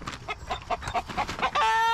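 Brooding hens sitting in a farm coop cluck in a quick, uneven series of short, close bursts, ending in a sustained higher-pitched tonal call.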